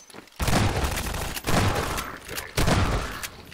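Gunfire in the video game Half-Life 2, three loud bursts of rapid shots in close succession, each a dense roaring volley that decays briefly before the next.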